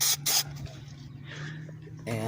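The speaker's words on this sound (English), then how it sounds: "I'll just spray some glue here" Two short hissing bursts of 3M headliner adhesive sprayed from a can onto a Ford Taurus headliner, close by, followed by quieter rustling and a low hum, then another brief hiss.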